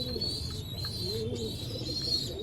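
A pair of teddy pigeons kept in a loft setup gives soft, low cooing, faint and close against a steady high-pitched background hiss.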